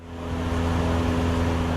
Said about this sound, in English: That is the sound of our 1975 Cessna 172.